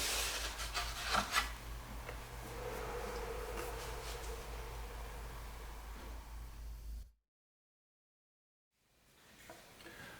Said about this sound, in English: I really carved them down a lot to get this top to sound the way I want it to sound